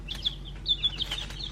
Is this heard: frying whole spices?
no